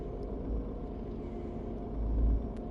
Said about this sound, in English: the sound is when you start hearing the truck again over the rain